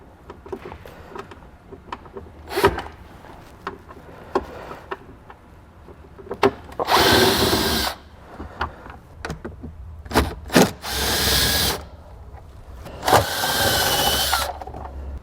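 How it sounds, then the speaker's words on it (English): Phillips head screws being backed out of a vehicle storage tray near the threshold panel with a screwdriver, heard as several separate bursts of scraping and rattling between quieter pauses, close by and fairly loud. "take a Phillips head screwdriver and just remove each of those 4 screws"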